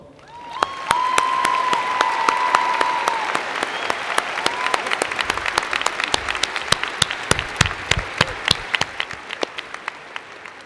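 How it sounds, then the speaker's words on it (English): Audience applause at a university spring commencement, honoring the deans: a sustained wash of clapping from a large crowd that fades gradually, leaving sparse scattered claps at the end, with a brief faint tone early on. "And now, you may applaud all of them."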